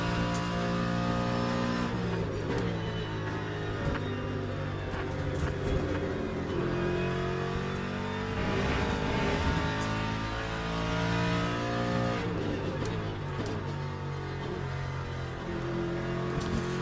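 A GT race car in Le Mans Ultimate accelerates hard, its engine note climbing through repeated gear changes with brief dips between pulls, loud and close, with faint tyre noise.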